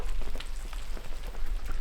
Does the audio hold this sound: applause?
no